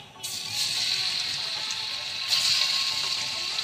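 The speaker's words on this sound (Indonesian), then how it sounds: "Setelah minyak panas, kita masukkan ayam." Chicken pieces dropped into hot cooking oil for sweet and sour chicken, with a steady, close sizzle that starts abruptly and holds at an even level, briefly growing louder near the end.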